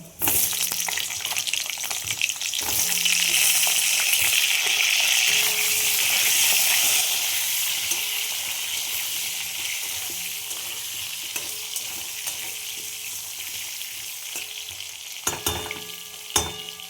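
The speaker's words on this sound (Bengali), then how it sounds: "এবার আমি এই আলুগুলো ভেজে নেব।" Steady, loud sizzling of potatoes frying in hot oil with cumin in a kadai, with occasional stirring scrapes and a brief clatter near the end; no talking.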